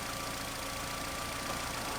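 A Renault car with a CVT gearbox idles steadily while its transmission fluid is checked, giving a constant, even engine hum without pauses or speech.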